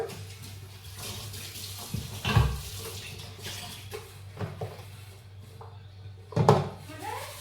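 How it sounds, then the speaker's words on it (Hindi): A kitchen tap runs while a stack of about ten dishes is washed, with a steady stream of water, a few clunks of utensils against the sink and a voice talking now and then. "अब कुछ 10 बर्तन है वो मैं धो देती हूँ"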